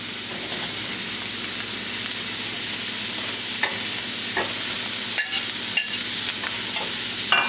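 Capsicum sizzles and fries in a hot pan over a high flame, a steady close hiss with occasional stirring clinks and scrapes throughout, no voices.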